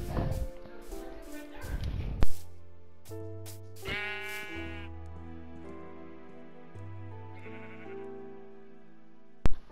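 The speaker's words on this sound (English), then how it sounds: "Oh my god, there's so many sheeps here." Sheep bleat repeatedly in a video game world crowded with flocks, the calls loud and close with layered game music underneath and a couple of sharp clicks.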